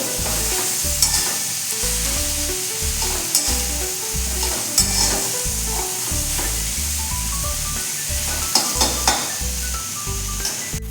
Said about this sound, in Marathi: हे आता छानपैकी परतत आलेले आहेत मसाले आपले